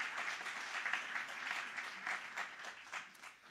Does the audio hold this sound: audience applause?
yes